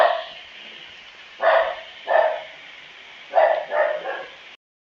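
A dog barks five times in quick, sharp bursts: two spaced barks, then a close cluster of three. The barks are fairly near and loud against a quiet background, with no talk.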